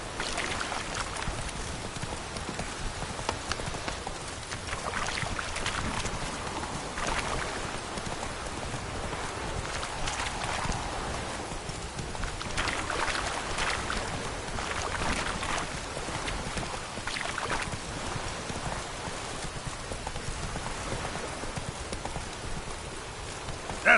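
Roach the horse trotting in a video game, a steady clip-clop of hooves running continuously under a wash of rain-like ambient noise, with no voices.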